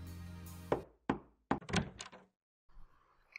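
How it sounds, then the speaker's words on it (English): Knocks on a door in the Steins;Gate visual novel: a few sharp, separate raps close by, then a softer shuffling clatter as the door opens, with no voices. "I hear a knock, and then the door opens."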